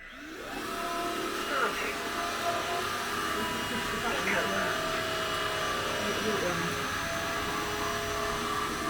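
A Swan Dirt Master Cross X Over wet-and-dry floor cleaner vacuuming indoors, a loud steady motor whine and airflow roar that starts up and runs continuously, with faint voices underneath.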